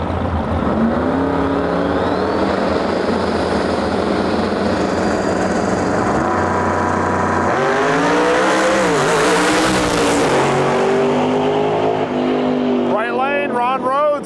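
X275 drag race cars at a Lights Out event launch and roar down the track, engines droning loud and steady with rising pitch sweeps as they accelerate past, while an announcer talks over the racket.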